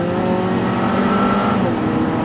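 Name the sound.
car accelerating to overtake other cars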